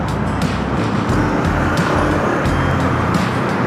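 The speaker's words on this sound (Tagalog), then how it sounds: "Traffic na talaga." Steady, loud road traffic noise in heavy congestion, a continuous rumble of cars and engines close by with no clear gaps.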